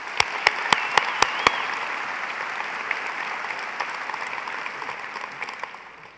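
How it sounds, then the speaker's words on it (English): Audience applause fills a university commencement ceremony, a few sharp individual claps at the start giving way to a steady, dense wash of clapping from a large crowd that slowly fades. "please join me in applauding the efforts of our emeriti faculty."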